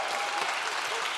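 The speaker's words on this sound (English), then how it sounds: "So, cheer loudly because there are folks watching us" An audience at a campus and community radio awards gala cheers and applauds loudly and steadily, a dense, continuous wash of clapping filling the room throughout.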